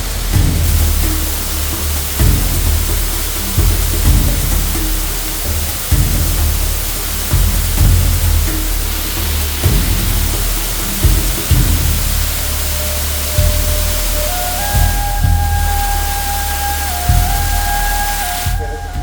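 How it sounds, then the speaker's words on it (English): A small waterfall in Canaima, Venezuela, heard as a loud, continuous rushing roar of water, with a few thumps and a faint tonal whine near the end. "This waterfall was much smaller than another one that we're gonna cross, and there's much more water out the other one."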